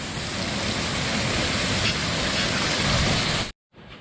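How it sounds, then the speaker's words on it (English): Steady, dense rain falls outside an open garage, heard from within as a continuous broadband hiss that holds even and loud before cutting off abruptly near the end, then resuming faintly. "Me and Maggie are hanging out in the garage here watching the rain"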